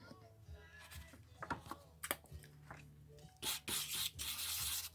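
A piece of landscaping rock is rubbed wet on carbide sandpaper: soft, irregular scraping strokes close up, building into a sustained gritty rasp near the end.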